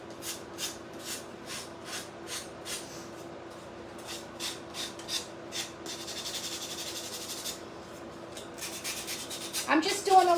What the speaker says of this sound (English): Sanding black just is messy